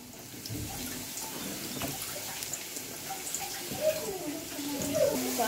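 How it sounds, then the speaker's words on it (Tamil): Water runs and splashes in a kitchen as a bowl is washed and refilled while making Chettinad chicken curry, a steady faint rushing with light clinks, and a voice talks over it. "அதே பாத்திரத்தை அந்த பவுலில் நல்லா வாஷ் பண்ணி கொஞ்சம் தண்ணி விட்டுக்கிறேன்."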